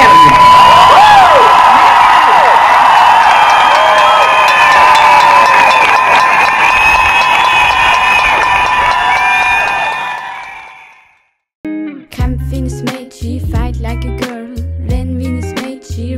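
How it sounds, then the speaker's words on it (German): A crowd at the 2021 Bern women's strike event cheers, whoops and applauds loudly for about ten seconds before the noise fades out, followed by a brief burst of music. "Einen ganz kräftigen, lauten Applaus für die Koordination dieses Tages"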